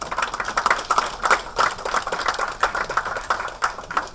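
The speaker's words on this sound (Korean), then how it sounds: "세 분의 노고에 대해서 뜨거운 박수를 한번 쳐주시기 바랍니다." Applause from lawmakers at an emergency party caucus meeting, sparse, uneven clapping that keeps going steadily and fairly close for a few seconds, with no voices over it.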